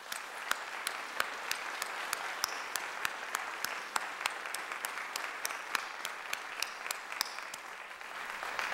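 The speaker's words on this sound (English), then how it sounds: "And let's give them a round of applause." Audience applause at a fall opening meeting, many hands clapping in a sustained, fairly distant patter with a few sharper individual claps standing out, heard alone without speech.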